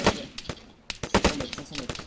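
Gunshots in the military video game Arma 3, a series of sharp, loud cracks spaced irregularly over about two seconds, some single and some in quick pairs, close and without talking.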